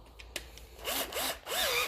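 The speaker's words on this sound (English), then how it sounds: "when I put it in the drill, it goes in scowaways, and it works as a paint mixer" Power drill whirring as it spins an old flathead screwdriver with a broken-off handle, used as a paint mixer, in rising and falling pulses against the paint can, brief and fairly close.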